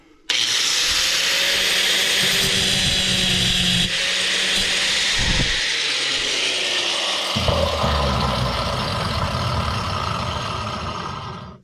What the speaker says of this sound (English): we're going to use a single grinder and cut that off